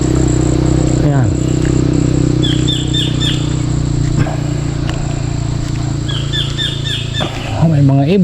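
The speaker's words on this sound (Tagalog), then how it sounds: "May mga ibon." Birds chirp outdoors in a Philippine barangay neighbourhood, short repeated tweets in two bursts over a steady hum of traffic, with a motorcycle passing near the end.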